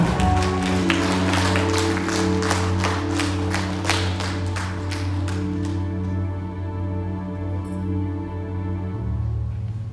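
A church congregation applauds in praise of Jesus with sustained rhythmic clapping over a held organ or keyboard chord. The clapping is loud for about six seconds, then thins out while the chord keeps sounding.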